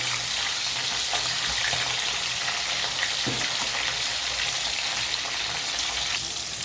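Brinjal pieces cooking in a pan with a little salt until softened, giving a steady, close hiss of frying that runs throughout, with a few faint stirring knocks.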